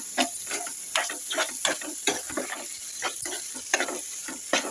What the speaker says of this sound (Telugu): ఇట్లా తిప్పుకుంటే ఒక రెండు నిమిషాలు మగ్గించుకుందాం